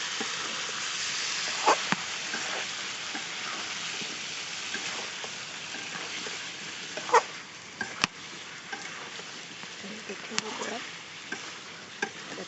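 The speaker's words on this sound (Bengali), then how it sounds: "আবারও মাংসটা একটু নাড়াচা দিয়ে নিই" Chicken pieces with potato fry in a pan under a quiet, steady sizzle, with occasional louder scraping clicks as the spoon stirs through the meat.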